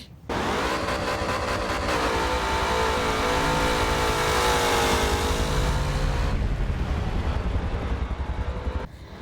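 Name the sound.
Pontiac Firebird V8 engine with Ram Air 4 intake revving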